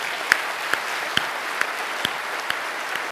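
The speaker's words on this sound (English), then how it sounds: "I want to invite a round of applause for our Premier for her public service to Alberta." Applause from Conservative members in the Alberta legislature fills the room with dense, steady clapping for a few seconds, punctuated by a handful of sharper, louder claps.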